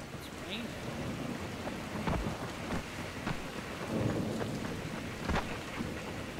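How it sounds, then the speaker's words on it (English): Steady rain hisses throughout while low thunder rumbles underneath, with a few sharper cracks and gusts, from the video game Dying Light. "Love it when it rains in the game."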